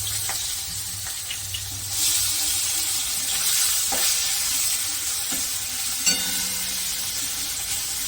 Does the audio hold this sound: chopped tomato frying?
yes